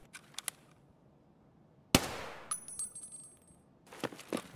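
A grenade launcher round in Escape From Tarkov bursts in one sharp, loud explosion partway through, followed by a ringing tail and scattered metallic clanks. A few fainter pops come before it and after it.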